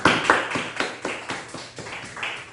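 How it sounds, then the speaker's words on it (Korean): Church congregation clapping in a steady, even rhythm, about four claps per second, with each clap sharp and close and the sound slowly fading. "다시 한 번 더 박수로 환영합니다"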